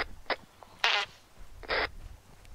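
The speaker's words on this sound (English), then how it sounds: "Don't you fart into my radio." Fart noises crackling over a game radio channel: a few short, buzzy raspy bursts, two longer ones standing out loudly, heard with no talk.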